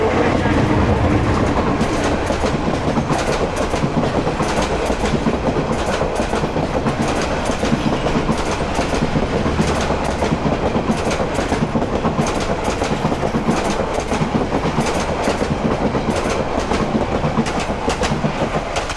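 A train passes through Bhawal Gazipur railway station with a steady, loud rumble and a continuous clickety-clack of wheels on rails for the whole stretch. Faint voices are mixed in.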